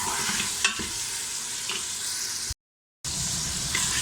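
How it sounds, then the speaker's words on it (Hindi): Steady, close sizzling of tomato, garlic and ginger frying in hot oil, with a few stirring scrapes and a brief gap of silence partway through. "पहले हम टमाटर और लहसुन अदरक को थोड़ा सा ऑयल में भून लेंगे।"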